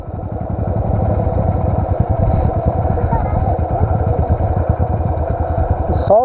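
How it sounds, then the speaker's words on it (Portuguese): A Pro Tork TR100F mini motorcycle runs steadily close by on a dirt trail, its small engine giving a loud, fast-pulsing putter that holds for about six seconds before a brief rattle at the end. "Deixa eu parar minha moto aqui."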